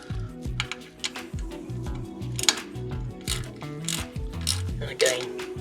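Avid BB7 mountain bike brake caliper mounting bolts being tightened to the adapter bit by bit, giving close mechanical ratcheting clicks and small metallic taps in irregular bursts, with no talking.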